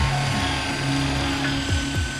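A core drill bores a sample out of stone in the towers of the Sagrada Familia, a loud, continuous grinding whine with a steady motor drone and a few rising and falling pitch shifts as the bit works.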